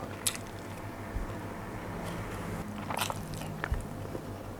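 Northern Thai sai ua pork sausage with lemongrass, turmeric and kaffir lime leaf being bitten and chewed close up, with a few crisp bites and soft squishy chewing over a low background hum.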